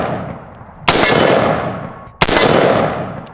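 Two loud, sharp AR rifle gunshots ring out about a second and a half apart, each cracking close by and trailing off in a long, echoing decay over a steady outdoor hiss.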